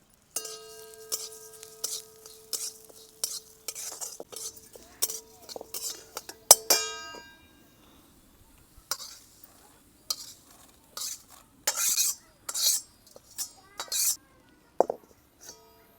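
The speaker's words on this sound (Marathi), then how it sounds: "अर्धी वाटी उडदाची डाळ घेतली, ती पण चांगली खरपूस भाजून घ्यायची" Urad dal being dry-roasted in a pan, stirred with a metal spoon in quick scraping, clinking strokes that come in bursts with short pauses, close and crisp, no talking.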